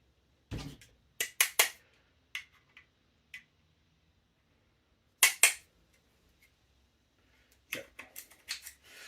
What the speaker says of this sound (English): I just hit the head of it with a bigger screwdriver to get the pin out